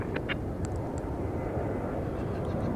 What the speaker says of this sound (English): Coming from Guadalajara on an Airbus A320.